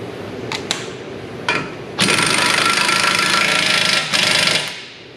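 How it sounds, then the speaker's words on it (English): An axle nut on a Hyundai Kona EV is driven on with a rattling impact wrench: a few short bursts, then a loud sustained hammering run of about two seconds, a brief pause and a final burst, close by. "Now the next one will be our axle nut here. So we're gonna tighten that."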